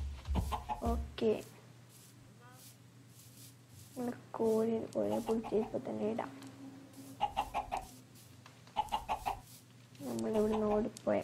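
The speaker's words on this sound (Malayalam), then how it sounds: "നമ്മളിവിടെ ഓടിപ്പോയ കോഴി" A Minecraft chicken in a video game gives several short, bursty clucks, repeated at irregular intervals at a close, moderate level.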